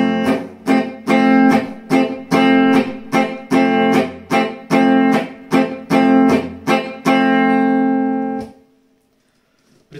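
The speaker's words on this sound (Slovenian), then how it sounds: "valček ritem, to je pa tri četrtinske" Acoustic guitar strumming chords in a three-four waltz rhythm for a folk-style lesson, steady repeated strokes with accented beats, played alone and close, ending on a ringing chord that fades out.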